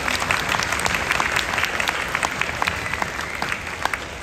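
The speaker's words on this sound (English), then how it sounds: "Can you give him a round of applause for them?" At a middle school choral concert, the audience breaks into steady, even applause that fills the room for several seconds with no voices over it.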